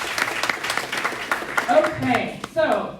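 Short burst of applause from a small audience at a community dialogue on a health and wellness mural, with voices talking over the clapping throughout and a few louder claps near the end.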